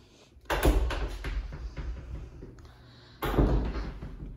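Closet double doors in an apartment bathroom swing open, two clear knocks and rattling thumps a few seconds apart, fairly close, with a quiet room behind them.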